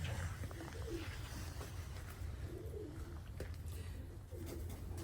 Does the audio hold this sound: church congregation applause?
no